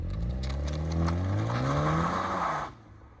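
A Toyota GR Supra 2.0 four-cylinder with a ZF 8-speed automatic accelerates hard, its engine note rising through the revs in a loud, close pull before cutting off abruptly.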